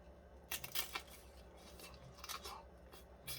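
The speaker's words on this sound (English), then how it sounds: "let's hear the crunch" Close, faint crunching bites into multicolored bell pepper salsa, a few crisp crackly bursts spaced over a few seconds in quiet surroundings with no talking.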